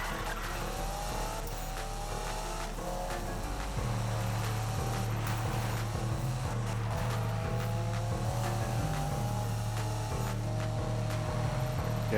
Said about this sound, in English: Now I can show off my drift, a failed drift, I guess.